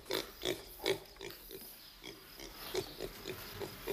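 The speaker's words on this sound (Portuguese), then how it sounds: "Um porco?" A pig grunts in short, repeated bursts at a fairly even rhythm, close by and quiet, with a low background hum.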